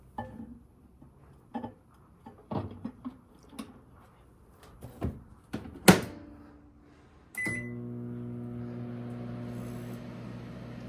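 A few clicks and clunks, a door shutting and buttons pressed, then a beep before a repaired Kenmore microwave oven, heating a small cup of water, starts its steady, low humming drone.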